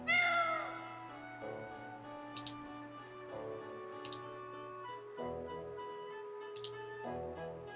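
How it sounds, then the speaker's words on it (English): A cat meows in the video game Tales of Vesperia, a few spaced, clear mews over a quiet, sustained musical backdrop, soft and without talk. "It's a cat I can interact with."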